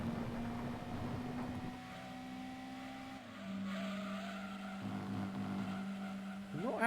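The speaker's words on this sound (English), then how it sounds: "I've just heard the terrible AI car V8 noises" Computer-controlled race cars with V8 engines in Gran Turismo 2 drone at steady, buzzing pitches that shift in steps, with tire skids and squeals over a continuous racing din and no talk.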